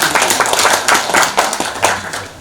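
A room full of people claps, brisk and fairly loud, the applause swelling and easing in uneven waves.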